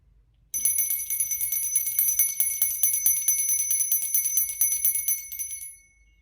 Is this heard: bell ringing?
yes